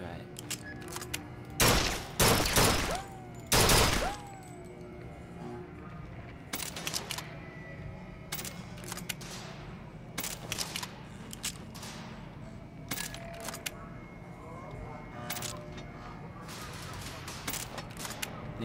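Carbine gunfire in Bioshock Infinite rings out as sharp, loud bursts early on, then gives way to scattered single shots and distant cracks over a low ambient hum while a player talks.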